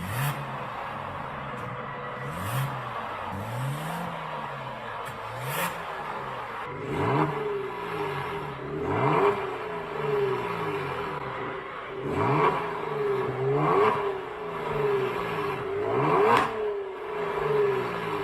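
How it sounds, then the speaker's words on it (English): A Genesis G70 fitted with a variable catback exhaust revs repeatedly, each throttle blip rising and falling in a series of sharp sweeps with a steady rumble between them, close and fairly loud. "there also are other exhausts that are like this one. I think is this variable catback."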